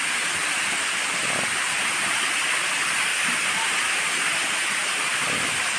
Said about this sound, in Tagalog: Yan yung tinatawag nilang Yaganak Falls.